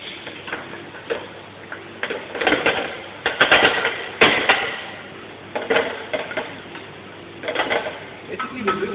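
Onions and celery sweating in a cooking pan as a utensil stirs them, giving scattered light clicks and taps against the pan in loose bursts over a soft, muffled background.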